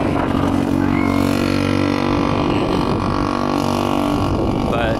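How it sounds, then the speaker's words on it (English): An ATV drives by outdoors in Platinum, Alaska, as a windstorm and rainstorm roll in, its engine drone steady and moderately loud against a broad wash of wind noise. "ATV rolling by."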